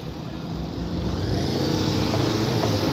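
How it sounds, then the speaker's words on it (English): A Yamaha R7 motorcycle passes at a street festival with a thin, buzzy, moped-like engine note, a steady close drone that holds at an even loudness over a noisy outdoor crowd background. "It sounds like a moped."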